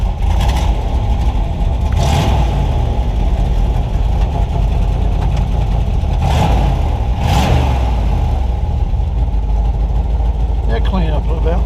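A 1968 Impala engine with a hanging choke or fouled plug rumbles loud and rough, with several revs surging through the steady low drone and someone talking briefly over it.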